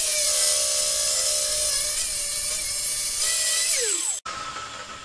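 Handheld saw cutting through a 50 mm diameter metal pipe, a steady high whine close up that bends and drops in pitch near the end and then cuts off abruptly.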